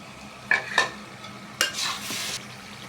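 Chopped tomatoes frying with masala in a pan for a young goat meat curry, a low sizzle broken by a few quick metallic scrapes and clinks of a spoon stirring, close up with no voices.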